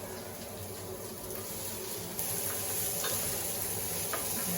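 Onions cook in a pan with a steady sizzle and frying crackle, while stirring scrapes sound through it and the sizzle grows slightly louder partway through.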